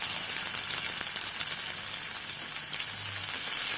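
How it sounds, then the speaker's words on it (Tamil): Long-sliced large onion sautéing in oil for a Tamil chutney, a steady bright hiss of frying close up, with faint occasional stirring and no voices. "வெங்காயம் கொஞ்சம் பொன்னிறமாகட்டும், அது வரைக்கும் நல்லா வதக்கி விடலாம்"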